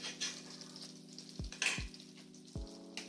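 Butter melts and sizzles in a pan, giving a soft, steady frying hiss close by with a few low knocks of utensils against the pan. No talk is heard.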